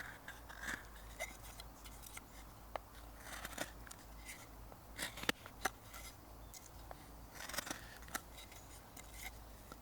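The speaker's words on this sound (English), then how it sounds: "Occasionally I'll make little cleanup cuts just to make sure that those walls are looking good." A knife makes small cleanup cuts in the notch of a wooden bow drill board: faint, scattered scraping snips and clicks, sparse and irregular, close to the microphone with no talking.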